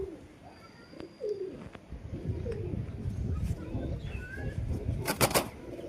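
Pigeons cooing in a loft of newly acquired birds, soft low coos repeating through the clip over a noisy background, with a brief flutter of wings near the end.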